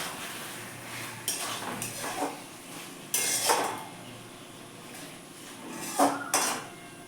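A metal lid is lifted and set back on a pot of chicken curry with potatoes, a few distinct clanks and scrapes over a faint low sizzle.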